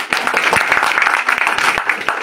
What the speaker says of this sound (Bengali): তার জন্য একটা জোরে করতালি হবে না?